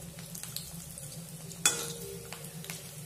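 Cabbage pakoda frying in hot oil, turned over partway through cooking: a steady close sizzle with soft stirring scrapes and one sharp clatter as the fritters are flipped.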